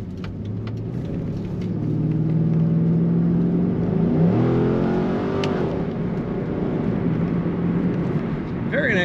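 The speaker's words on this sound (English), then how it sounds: "nice acceleration in this Corvette" A 2004 Chevrolet Corvette Commemorative Edition coupe with an automatic transmission accelerates, its engine roar swelling and rising in pitch, then easing back to a steady drone, heard from inside the car.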